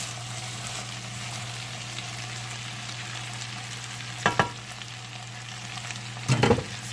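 Potatoes fry in a pan for smothered potatoes, a steady close sizzle with two brief scraping stirs near the end.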